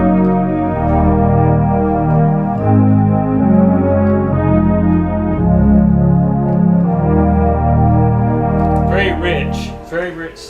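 Rich, sustained Memorymoog analog synthesizer pad chords swell and shift slowly, layered and full, playing steadily with a brief noisy burst near the end.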